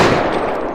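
Desert Eagle pistol fired in a realistic shooter video game, a single loud, close, sharp blast with a dense broadband burst and brief decaying tail.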